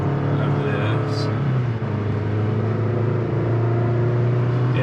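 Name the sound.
2023 Chevy Colorado Trail Boss engine revving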